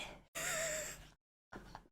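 A voice imitates heavy breathing: a long, loud, rasping exhale framed by a short breath before and a shorter, gasping breath after, close and without words.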